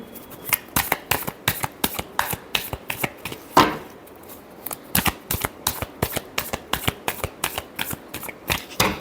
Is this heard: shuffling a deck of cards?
yes